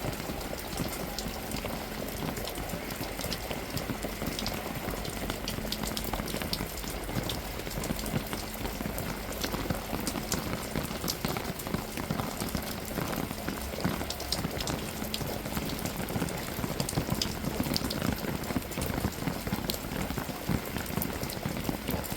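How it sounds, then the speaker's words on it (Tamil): Steady heavy rain pours down without pause, a dense, continuous hiss and patter of drops on surfaces close by, with no voices over it. "நைட்ல இருந்து தொடர்ந்து மழையாதான் மேஞ்சிட்டு நான் விடிஞ்சு பார்க்குறோம் நல்ல மழை"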